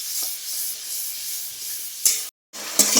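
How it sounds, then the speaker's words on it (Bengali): Masala, eggs and potatoes frying in a pan give a steady, close sizzle that swells briefly, drops out to silence for a moment, then returns with a crackle. "এবার মশলাটা ভালো করে ভাজো"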